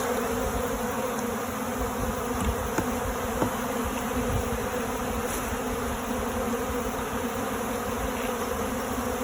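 Honey bees buzz steadily around a bear-damaged hive, a dense continuous drone of many wings filling the air at close range without any voices.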